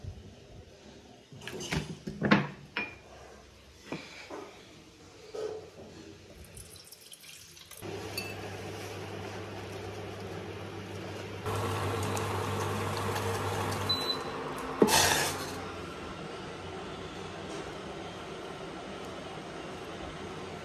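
Water is poured into a cup and stirred, several short clinks and splashes followed by a steady stream of running liquid, fairly faint and close with no talking.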